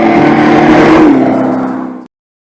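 Loud synthetic engine roar from a Dodge Charger Daytona EV electric car, a sustained revving drone that holds steady and then cuts off abruptly after about two seconds.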